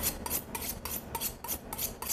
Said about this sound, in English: Take a few of these, we're going to chop them up slightly just so that the blender's easier